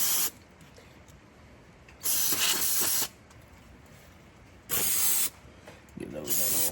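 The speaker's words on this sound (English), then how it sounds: "spray down my injector lines a little bit" Three separate bursts of hissing spray of cleaner onto John Deere 2750 tractor injector lines, each about a second long, with quiet pauses between them.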